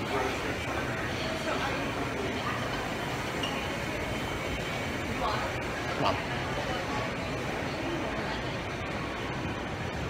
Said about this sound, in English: We're here in Grand Central right now.